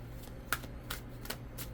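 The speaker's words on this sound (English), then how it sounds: "we are going to do a little shuffle" Tarot cards being shuffled by hand, a few crisp riffling bursts and soft slaps spaced across a quiet room, close and fairly faint over a low steady hum.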